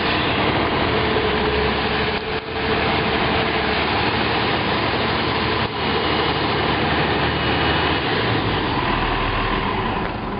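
Heavy engine of a 100,000 lb tractor rolling slowly over a rubber sheet outdoors, a steady loud diesel rumble and drone throughout with two brief dips, no talk.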